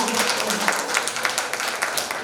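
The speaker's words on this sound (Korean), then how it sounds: "더 뜨거운 박수 부탁드립니다." An audience at a Korean poetry lecture applauds warmly for the guest speaker, a short burst of dense, close clapping with a few louder individual hand strikes.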